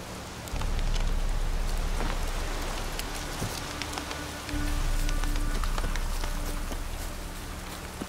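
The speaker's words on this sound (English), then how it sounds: "Looks like rain." Steady rain falls in The Witcher 3, a dense close hiss of drops on surfaces that swells and dips without stopping, with no voices over it.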